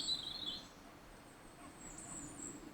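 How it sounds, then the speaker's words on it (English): Faint, distant birdsong drifts through an autumn woodland: a few thin high chirps and tweets over a soft, quiet outdoor background. "The silence is broken by the echoing song of birds"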